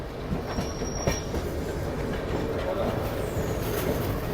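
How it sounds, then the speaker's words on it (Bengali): The Howrah-Patna Jan Shatabdi Express pulls out of Asansol Junction with a loud, steady rumble and rattle of rolling carriages and wheels. The noise is continuous throughout, with occasional clanks. "ছেড়ে দিল আসানসোল জংশন আর এরপরে হচ্ছে চিত্তরঞ্জন"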